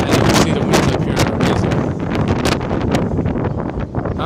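Strong wind at the top of Saint Joseph Oratory, buffeting the microphone in loud continuous gusts and rumbles that fill the whole stretch without letup.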